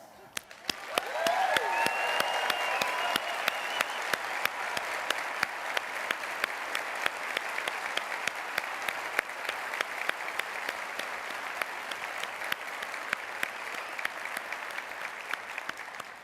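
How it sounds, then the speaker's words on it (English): Thunderous applause at a 50th anniversary celebration honoring volunteer leaders, a broad sustained clapping from a large audience that swells up within the first second and holds steady to the end. "Can we give the most special of our volunteer leaders over the years a thunderous applause?"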